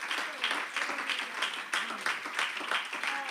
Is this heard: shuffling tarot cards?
no